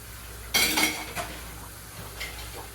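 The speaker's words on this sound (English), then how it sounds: "do like to rinse the dishes before they go into the dishwasher" Dishes and cutlery clatter and clink in a kitchen as they are rinsed before going into the dishwasher, a loud cluster of knocks followed by a few softer clinks, with no talking.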